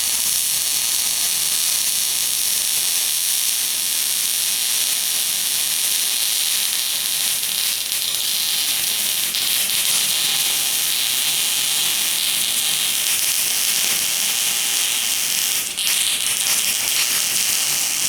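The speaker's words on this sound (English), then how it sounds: "He's like welding, but the welder doesn't work very good anymore." Electric arc welding on a bus with a worn-out welder, giving a loud, continuous crackling hiss that runs steadily the whole time with no talk.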